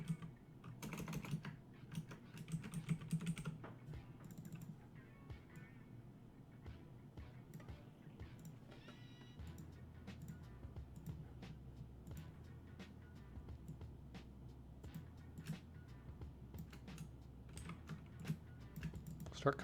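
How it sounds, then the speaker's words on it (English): Steady, quiet typing on a computer keyboard runs on for a long stretch, soft keystrokes in a continuous patter with a low hum behind, and nobody speaks. "I'm just gonna have to start typing some."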